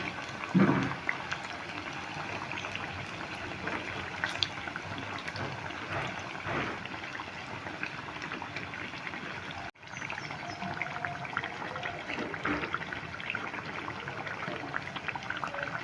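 A crisp snack of rice flour, potato and carrot fries in oil over a medium flame while oil is spooned over the top, giving a steady, soft bubbling sizzle with one brief clank partway through.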